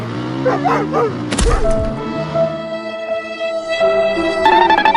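A dog barks and yelps in front of a scooter, with a sharp thump partway through and a brief whine afterward, close and fairly loud, with little talk.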